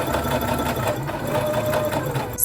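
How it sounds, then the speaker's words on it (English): A sewing machine runs steadily, stitching a seam on a velvet dress at a stitch length of about 3.5, a continuous close, even mechanical whir with a fast regular rhythm and no talking. "I'm now going to sew this first section shut"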